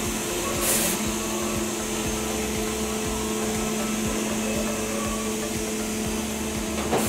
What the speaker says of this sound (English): thanks to these three spindles working simultaneously, the machine is producing average 3 times faster compared to any horizontal CNC center machine